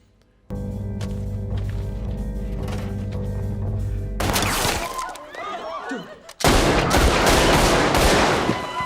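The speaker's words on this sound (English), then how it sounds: "Bullets are flying." Gunfire from the film Hell or High Water, a sustained tone giving way to chaotic bursts of shots and crashing impacts, then a loud dense barrage that runs to the end.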